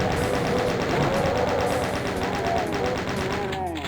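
Rapid, steady chaingun fire from the Doom 2 video game, a continuous rattling burst of shots lasting several seconds, loud and close with faint game sounds mixed in.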